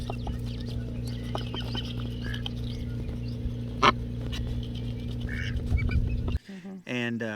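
Newly hatched ducklings with their mother duck make soft scattered peeps and quacks over a steady low hum, with a louder call near the middle and a sudden shift in sound toward the end.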